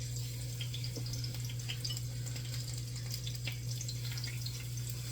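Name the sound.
plantains dipped in water and fried in grease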